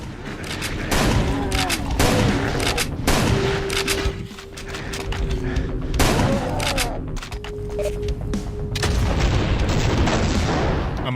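Rocket launcher blasts and explosions in a modded Doom game, loud repeated booming shots with rolling rumbles and bursts of gunfire in quick succession, alone without talk.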